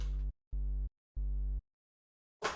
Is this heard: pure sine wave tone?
yes